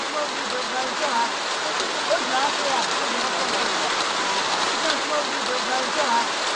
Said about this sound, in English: We had to pause the interviews at this moment because it was just about raining.